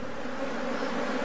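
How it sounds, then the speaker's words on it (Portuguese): Aggressive killer bees buzz near their hive, a steady dense drone with no breaks, close and fairly loud throughout. "existe uma colmeia de abelhas agressivas ali perto e desconfia que pode ser uma colmeia de abelhas"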